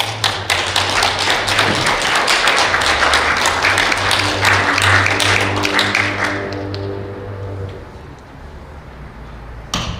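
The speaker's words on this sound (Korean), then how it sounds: "이목자님 나오실 때 큰 박수를 함께 해주세요." Loud, close applause from the audience at a book launch as the author of a new book comes forward, steady for several seconds with a low hum underneath, then thinning out.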